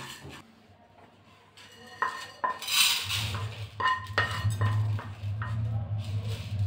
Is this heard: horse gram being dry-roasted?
yes